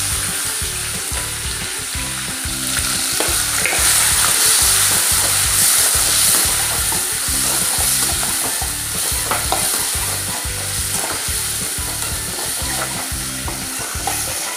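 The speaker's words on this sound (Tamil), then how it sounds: "இப்போ கருவாட்டு குழம்புக்கு வெங்காயம் வதங்கிக்கிது" Sliced onions fry and sizzle in a pan as the base for a dried fish curry, a loud steady crackle broken by regular rhythmic scraping of a spoon stirring through the pan, with no one talking.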